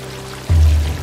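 In the video game Stray, a cat steps into water, producing a short sloshing splash that swells suddenly and holds for a moment, close and fairly loud.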